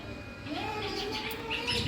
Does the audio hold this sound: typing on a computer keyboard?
no